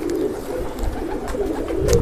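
An old-breed pigeon with a big head, parrot-shaped body and black neck coos close by in a low, continuous, throaty burble lasting a couple of seconds.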